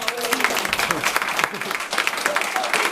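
Wedding guests break into applause, a brief burst of clapping with voices and calls mixed in, fairly close and lively throughout.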